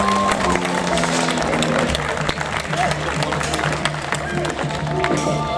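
Steady, dense audience applause fills an outdoor show stage at a Stihl Timbersports demonstration at the Royal Three Counties Show in Malvern, with a crowd clapping continuously throughout at close range.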